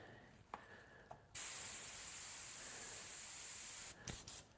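An airbrush sprays paint onto a glide bait fishing lure, a steady hiss that starts abruptly, runs about two and a half seconds and cuts off, with a few faint clicks before and after.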